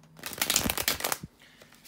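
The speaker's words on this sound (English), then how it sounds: "bear with me for a couple of seconds, guys, to shuffle the tarot cards." Tarot cards are riffled and shuffled in a quick burst of papery flutters, close up, fading to quiet rustling.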